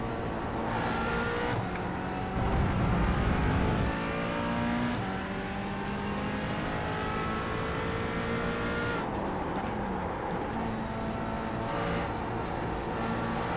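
A McLaren GT4 race car in iRacing at the Red Bull Ring, its engine screaming at high revs near the limiter with steady, sustained harmonics and a brief surge early on, loud and continuous.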